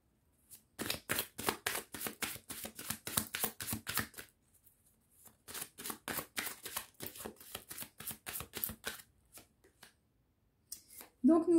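Tarot cards are shuffled in two long runs of quick, crisp riffling slaps, close and clear, with a short pause between them and a brief voice at the very end.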